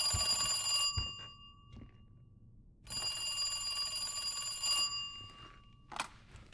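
A telephone rings in the video game Resident Evil 2. Two long electronic ring bursts, each close to a second and a half, are separated by a short gap, with a few soft game clicks and knocks in between.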